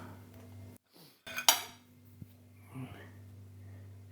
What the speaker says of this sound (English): I'm going to cut one open, try it without anything on